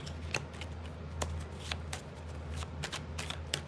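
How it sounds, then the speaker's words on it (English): Playing cards being shuffled in several quick riffling bursts, crisp and close, over a low steady background hum. "More shuffle."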